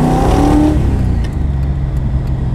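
A 1982 Ford Fairmont XE ESP with a 5.8-litre V8 accelerating hard, a loud, dense engine roar that rises briefly and then steadies into a broad rumbling drone.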